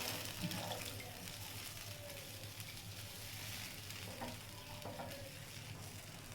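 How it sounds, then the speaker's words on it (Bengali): Pabda fish curry sizzles in a pan as water is added, a steady, soft hiss and bubbling with faint splashes, heard fairly quietly throughout. "এবার আমি এর মধ্যে জল দিয়ে দেবো"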